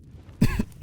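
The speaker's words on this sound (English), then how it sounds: "Coughing a little bit here." A person gives a few sharp, close coughs in quick succession, two or three throaty bursts after a brief quiet start.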